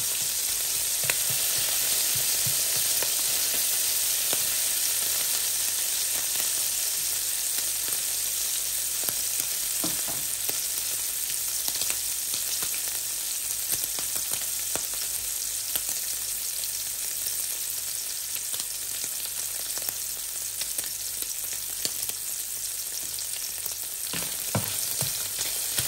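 Bacon fries and crisps in a pan with a steady, dense sizzle and crackle that runs throughout, broken by occasional soft pops and utensil taps, with no talk.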